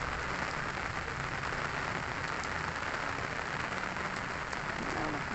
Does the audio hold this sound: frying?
no